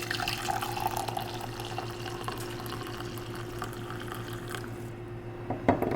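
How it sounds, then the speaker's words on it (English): Hot tea pours steadily from a pot into a cup, a continuous soft liquid trickle over a low background hum, ending with a light clink, with no talking. "I'm gonna go ahead and grab the pot. It's really hot, and I'm gonna go ahead and pour the tea"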